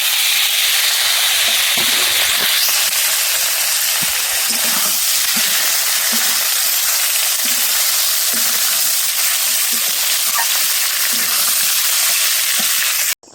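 Capsicum goes into a pan of frying potatoes and carrots, and a loud, continuous hissing sizzle runs throughout, with occasional stirring scrapes and no voices.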